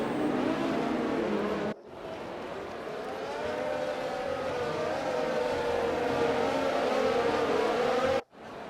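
Race cars roar off the start of the Mexican Grand Prix in a racing video game, a loud sustained engine howl with rising harmonic whine, cutting out briefly twice.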